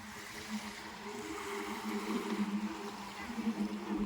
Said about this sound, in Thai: ท่านผู้ชมก็จะเห็นนะครับว่ามีการแข่ง สปีดโบ๊ทกันอยู่นะครับ